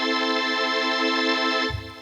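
A bright, sustained chord from a vintage string synthesizer through a chorus ensemble, with a shimmering, chorused wash, held steady for nearly two seconds before a low note cuts in.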